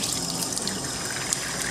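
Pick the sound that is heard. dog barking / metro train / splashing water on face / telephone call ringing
splashing water on face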